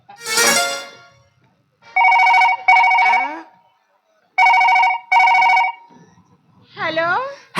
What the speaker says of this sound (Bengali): টুম্পা কোথায় আছে, ফোনটা করা যাক।